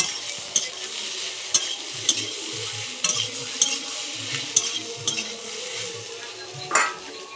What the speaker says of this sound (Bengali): এবার একসাথে মাখিয়ে নেব কড়াইতে ভালো করে